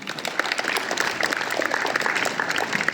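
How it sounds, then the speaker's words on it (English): An audience at a school sports meet claps steadily together, a dense, even patter of many hands with no break. "all of you, please clap"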